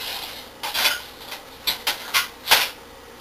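Titanium Caldera Cone Ti Tri Sidewinder stove parts are dovetailed together and stakes pushed through, giving a string of light metallic scrapes, clicks and rubbing taps close up.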